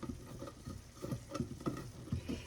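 A spatula stirs and scrapes food in a sizzling pan during a stuffed bell pepper cooking session, with quiet, rhythmic scraping strokes repeating every fraction of a second over a soft frying hiss.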